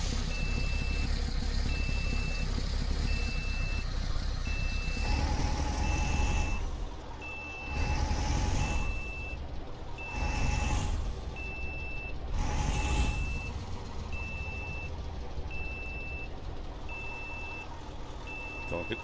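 A truck reversing in Euro Truck Simulator 2, evenly spaced backup beeps pulsing throughout over a low idling diesel engine rumble, with several hissing air brake releases in the middle.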